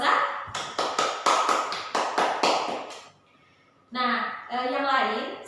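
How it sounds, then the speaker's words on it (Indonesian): A classroom of students gives a student a round of applause, a burst of close, fairly loud clapping lasting about three seconds, followed by a teacher speaking. "Ayo kita beri aplaus untuk Inoza."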